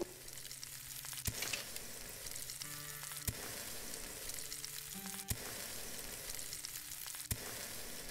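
Fish cooking in the video game Above Snakes, a steady sizzling fry with sharp clicks every couple of seconds and short tonal interface chimes over it, no speech.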